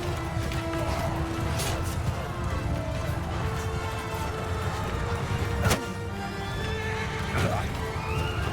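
A horse in Mount & Blade II Bannerlord neighs and whinnies amid clip-clopping hooves and battle noise, with sharp whinnies near six and seven seconds over a steady busy game background.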